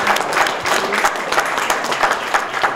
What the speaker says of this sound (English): let's give the rookies a round of applause for doing this for us.